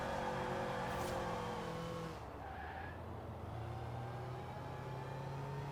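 A supercharged Toyota in Forza Horizon 4 drones steadily at moderate distance with a whining engine note, its tires briefly squealing as the car starts to slide sideways and the driver lifts off the throttle.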